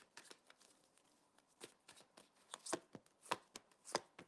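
Soft, quiet riffling and slapping of tarot cards being shuffled, in irregular bursts that grow louder toward the end.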